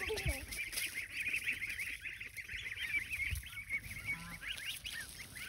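Young goslings and ducklings call outdoors in the sun, a busy overlapping chorus of high peeping chirps running steadily throughout, with a few deeper honks mixed in.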